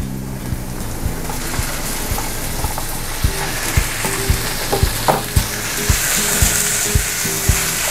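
Ground pork frying in a pan, a constant loud sizzle with repeated sharp clicks and scrapes as the meat is stirred and broken up, no voices over it.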